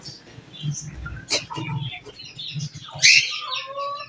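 Backyard pet setup with hens and roosters: scattered nearby chirps and short squawks, with a sharper, louder call about three-quarters of the way through.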